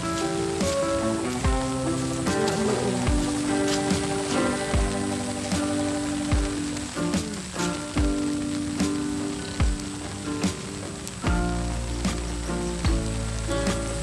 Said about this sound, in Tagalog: Palakas na ng palakas yung ulan.